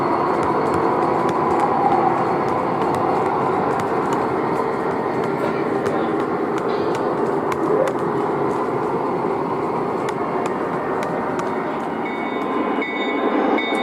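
O gauge model CSX freight train with an AC6000 locomotive rolling along a layout's main line, giving a steady continuous rumble with faint rhythmic clicks of wheels over track joints, fairly close and unbroken throughout.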